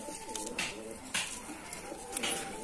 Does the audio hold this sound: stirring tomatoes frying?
no